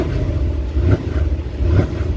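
A deep, rumbling 2019 Mercedes-AMG GLC63 4MATIC+ SUV biturbo V8 exhaust, sports exhaust flaps open, idles and burbles steadily, with two brief swells of revving, close by and with no one talking.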